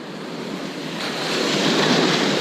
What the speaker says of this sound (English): Let's see if I can't rinse out my scoop here.